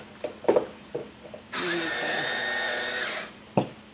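An Ozeri electric wine opener motor whirs steadily for about two seconds as it draws a cork, preceded by a few handling clicks and followed by a sharp knock.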